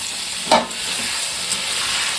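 Salt-boiled jackfruit and reddened potatoes fry in a pan with a steady, fairly loud hiss, broken by a sharp scrape of stirring near the start and a softer clink later.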